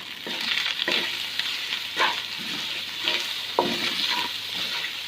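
Shredded chicken is stirred and fried in a pan for a chicken kachori filling, with a steady sizzle broken by several scraping stirs of a spatula, close and fairly loud with no talking.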